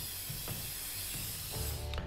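Steady spray-can hiss from spray painting in the inFAMOUS Second Son video game, with a few brief rattling clicks at about half a second, one and a half seconds and two seconds, and no talking.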